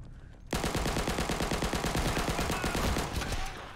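Sustained automatic fire from an MP40 submachine gun in the Day of Infamy shooter game erupts after a brief quiet start, rapid loud bursts with dense rattling repetition running nearly continuously to the end.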